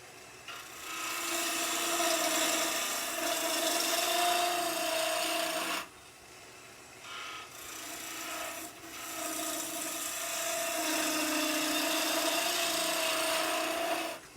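A wood lathe spins a workpiece while a Crown Cryo turning tool takes off the bulk, giving a steady close scraping roar that breaks off briefly near the middle and then resumes.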